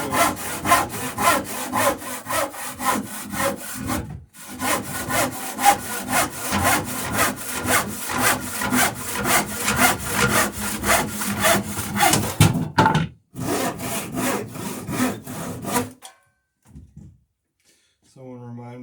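Hand saw cutting wooden blocking for solid rails to length, a steady run of rhythmic back-and-forth rasping strokes, loud and close, with a brief pause midway and the sawing ending near the close.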